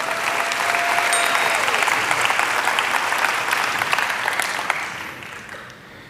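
Church congregation applauding in a sustained, dense wash of clapping that holds steady for several seconds before tapering off at the end.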